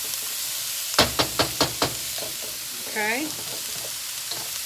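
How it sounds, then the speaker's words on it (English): Veggie chow mein noodles frying in a pan, stirred with a steady hiss of sizzling, a quick series of five or six knocks from the utensil, and a brief word spoken over it. "every now and then I open this back up and I give it a stir"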